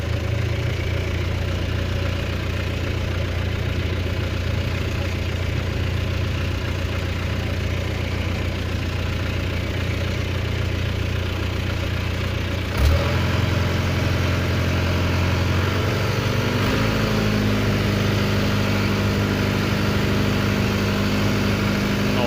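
A small engine idles steadily with a low, even rumble, briefly stumbling partway through before settling back into a rougher, continuous run.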